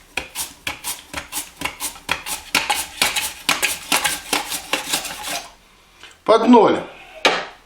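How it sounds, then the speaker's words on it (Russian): Small potatoes are sliced on a vegetable slicer in a home kitchen, a rapid series of sharp, rhythmic scraping cuts close by, then a pause, a brief clatter, and a short spoken remark. "Я буду использовать резалку."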